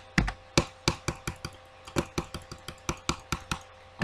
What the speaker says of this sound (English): I think you can hear me clicking.